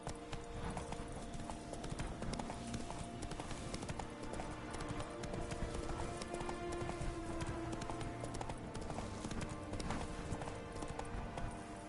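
Horse hooves clip-clop steadily as a horse is ridden in the video game The Witcher 3: Blood and Wine. The hoofbeats run continuously and close over a full in-game ambience.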